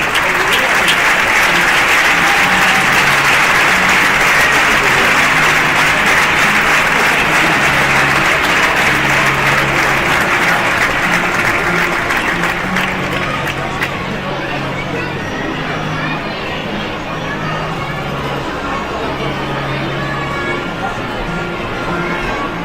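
Sustained audience applause at an Asturian handball awards gala, a dense, loud wash of clapping that carries on without a break and eases off slightly in the second half, with faint crowd murmur mixed in.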